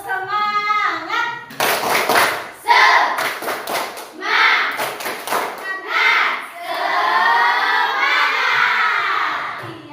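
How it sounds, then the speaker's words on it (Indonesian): Children in a classroom perform a spirit clapping chant, loud rhythmic bursts of hand claps alternating with shouted chanted words in unison, ending in a long drawn-out group cry. "Sebelum kita memasuki pelajaran kita, tepuk semangat dulu."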